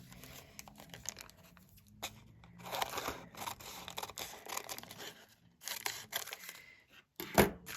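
Scissors snip and crunch through paper in repeated cuts, with crinkling paper handled close by and a sharper snip near the end.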